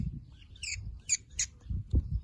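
A young hwamei thrush, a sick rescued fledgling hand-fed chick feed mixed with egg yolk, gives several short, high squawking calls close by, with soft handling rustles underneath.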